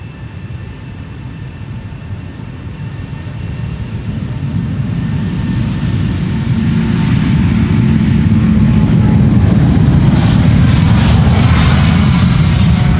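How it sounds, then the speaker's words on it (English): A five-year-old Delta Air Lines Airbus A330 jet takes off from Polderbaan runway 36L at Amsterdam Schiphol, its loud engine roar building steadily and rising in pitch as it nears, with no voices. "up next is another Delta A330"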